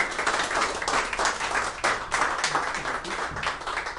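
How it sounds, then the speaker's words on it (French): Close, lively applause from a conference audience greeting a speaker, individual hand claps distinct within a dense rhythmic patter that stays loud throughout. "Je vous demande d'applaudir Laurent Arthur Duplessis."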